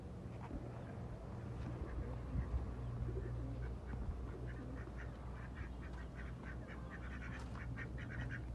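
Ducks quack repeatedly at a farm pond where they have eaten the fish, the calls fairly faint over a steady low background hum, with no talking.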